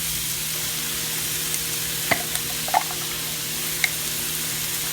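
Minced garlic hitting a hot pan of tofu stir-fry gives a steady, close sizzle and frying hiss, with a few small pops and crackles and no talking.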